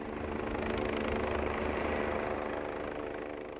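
Military National Guard helicopter flying overhead near an airport, a steady rotor chop and engine roar holding at moderate loudness for a few seconds.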